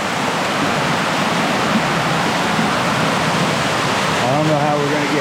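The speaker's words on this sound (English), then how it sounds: "Let's see if we can't get over there to that waterfall and stand underneath it." A waterfall roars close by in a wooded creek, a loud continuous rushing wash filling the whole moment, with a voice briefly heard near the end.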